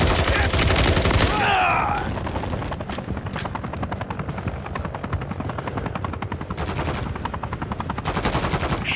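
Automatic gunfire in Call of Duty Modern Warfare III, rapid bursts over a loud, steady helicopter rotor drone, close and continuous, with a sharp crash near the start.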